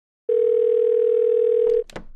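Telephone dial tone during a call: a single steady, loud tone holding for about a second and a half, then cutting off into a couple of brief clicks.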